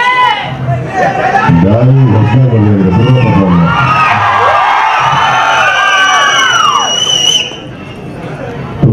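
A college cultural festival audience in Bengaluru cheers, shouts, whistles and whoops continuously and loudly, mixed with voices and amplified sound. The crowd noise fades somewhat near the end.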